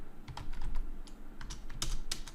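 Quiet bursts of typing on a computer keyboard, irregular clusters of light key clicks close to the microphone, with no voices.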